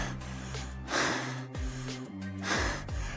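Loud, heavy breaths drawn in and pushed out in a slow rhythm, close up, each exhale rough and rasping.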